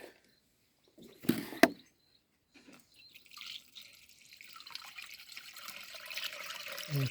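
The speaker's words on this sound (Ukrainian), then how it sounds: "Ставимо його на сіточку і змиваємо водичкою у бачок." Water rinses liquid pesticide through a mesh into a sprayer tank, a soft trickling pour after a couple of brief knocks, close and fairly quiet with no talk.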